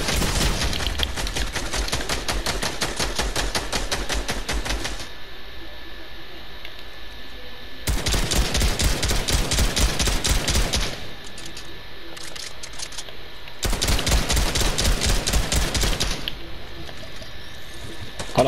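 Rapid automatic gunfire in the video game Fortnite, fired in three long bursts separated by short pauses, loud and close, with rattling, evenly spaced shots.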